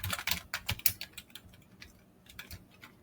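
Computer keyboard typing in quick irregular bursts of close, crisp key clicks, busier at the start and thinning to sparse taps, with no talking.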